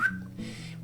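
A person whistles a short, clear tone, imitating a dad's whistle used to call children home for dinner. It is brief and close, with no other sound.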